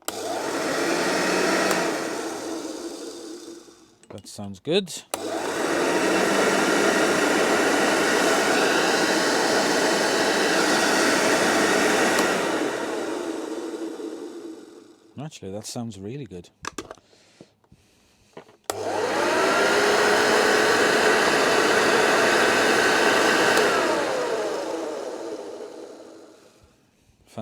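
Hoover Junior 1345A vacuum cleaner, freshly refurbished and set to its highest level, runs with a loud steady motor whine in three long stretches separated by brief switch-offs and clicks, with someone speaking briefly over it.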